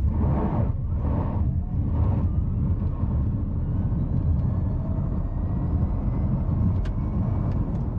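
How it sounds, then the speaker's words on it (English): A 2023 Honda e:NY1 electric car pulls away from a standstill with tyres scrabbling for grip, giving a steady low road and motor rumble with a faint rising whine. "Setting off from a standstill, this car really scrabbles for grip."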